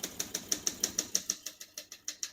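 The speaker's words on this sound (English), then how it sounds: "As you can see, all the keys type nice and none of them skip or stick." Keys striking on a 1972 Olympia SM9 portable typewriter, about fifteen crisp, evenly paced clacks in a steady run, close and clear with no talking.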